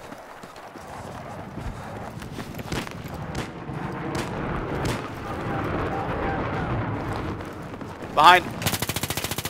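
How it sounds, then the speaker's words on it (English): Video game gunfire crackles through a busy firefight, with scattered shots and bursts over constant battle noise, ending in a loud, rapid automatic burst near the close; a voice speaks briefly. "I'm being shot at by other things."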